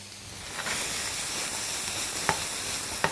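Vegetables and tomato puree fry in a pan with a steady, even sizzle and hiss, broken by a couple of sharp clicks or scrapes near the end.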